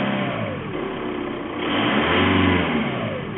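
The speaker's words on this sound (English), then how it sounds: "you can hear the motor starting to kind of really struggle" A car engine running loudly nearby, idling unevenly and struggling as if misfiring, with a slight surge in revs midway, no one speaking.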